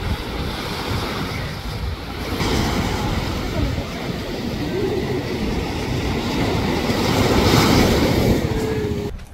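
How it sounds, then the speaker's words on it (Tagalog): Sea waves surging and breaking at Hundred Islands in Alaminos, Pangasinan, a broad, continuous wash of surf under gusting wind buffeting the microphone, swelling louder toward the end, with voices faintly underneath. "delikado pag humampas yung alon"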